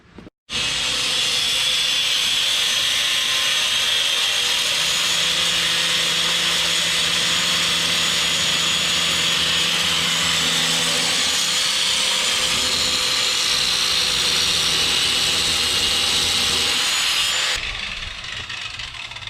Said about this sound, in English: We're gonna cut that out and make 2 of those and weld them in.